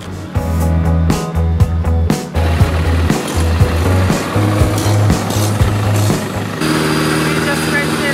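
A rented longtail-style tour boat's engine idling loudly near the Phi Phi Islands in Thailand, a steady low throbbing drone with people talking over it.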